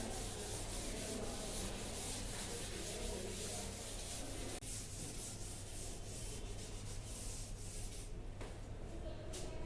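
A board eraser rubs out writing during a lesson on plant transport, a steady, continuous scrubbing that runs the whole time, fairly close and with no talking.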